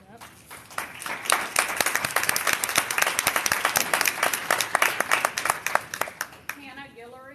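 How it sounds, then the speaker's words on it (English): Applause breaks out among the audience at a Lafayette Public Library board meeting, building into rhythmic, sharp claps in a room, then fading as a voice begins speaking at the end. "I appreciate the applause"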